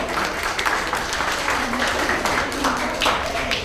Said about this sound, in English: Let's give an applause for our musician.